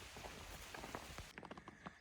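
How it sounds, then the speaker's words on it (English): Rain begins falling on the Appalachian Trail, with scattered raindrops pattering on leaves and ground as a soft, irregular tapping, close but faint. "here comes the rain."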